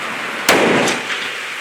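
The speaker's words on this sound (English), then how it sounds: "we'll shoot about 50 yards in front of that milk jug" A single sharp report from a CVA Apex rifle fired outdoors toward a target about 50 yards out, loud and close, with a rolling echo tail and a fainter secondary crack shortly after.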